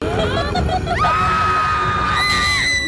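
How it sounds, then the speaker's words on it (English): A girl's shrill scream, used as a stock sound effect in a zombie scene, rises sharply and holds for about two seconds over a loud, busy background of noise. "Why is the girl screaming here?"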